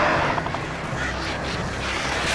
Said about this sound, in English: Birds in the face.